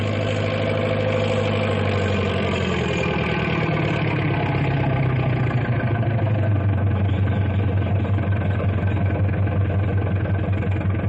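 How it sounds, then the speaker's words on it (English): A large double Caterpillar tractor engine runs steadily nearby, a loud, deep, rumbling drone that holds constant throughout with no voices. "That big double Caterpillar tractor"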